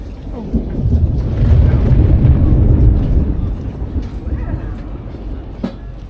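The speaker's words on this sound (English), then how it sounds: "That was a really strong rumble of thunder." A strong, deep rumble of thunder rolls in from a distant storm over Fiskardo harbour on Kefalonia, Greece. It swells for a few seconds, then fades slowly into the open outdoor air.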